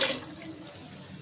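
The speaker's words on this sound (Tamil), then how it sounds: "இப்போ தண்ணியை ஊற்றிக்கலாம்" Water runs and splashes steadily into a container for about a second, a close, continuous rushing pour with no voices.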